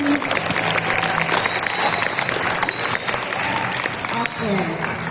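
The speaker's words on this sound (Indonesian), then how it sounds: "Tepuk tangan dong." Sustained applause from an audience at a language talk show, a dense continuous patter of many hands clapping throughout, with a speaking voice faintly mixed in over it.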